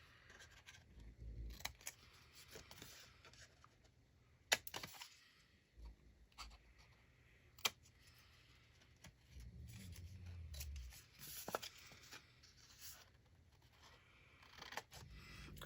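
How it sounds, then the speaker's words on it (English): Scissors snip and slide through paper to trim small corners for a handmade junk journal ledger, quiet close cuts and rustles spread irregularly with no talk. "let me just cut away my little corners here."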